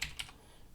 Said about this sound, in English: we would have to type in the full website address